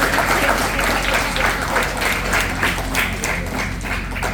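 Crowd applause and cheering for a child named Kako at a kids' event, a continuous wash of clapping from a nearby group, fairly loud and sustained throughout.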